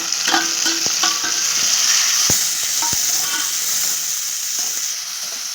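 Onions frying in a pan, a loud, steady sizzle with a few sharp utensil knocks and stirring scrapes scattered through it, no voices.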